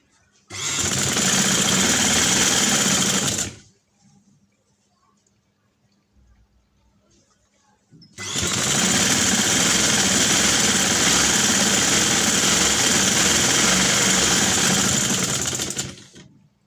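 A domestic sewing machine runs two loud sustained bursts, stitching along fabric for a suit sleeve design, with a quiet pause between them.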